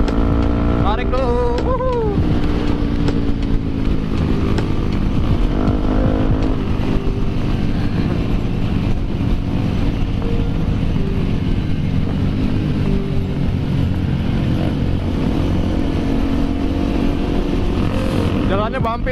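Yamaha WR155 supermoto motorcycle accelerating along a bumpy road, engine droning steadily up close with broadband wind rush and rising tones early on, while a rider talks over it.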